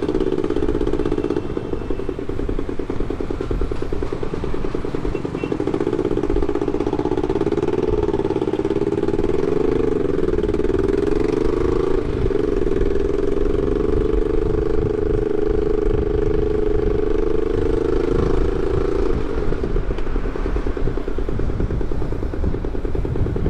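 A Kawasaki Ninja 650/ER6F parallel-twin motorcycle idles with only one cylinder firing, giving a loud, steady, uneven rattling drone that continues unbroken throughout at close range, with no talking.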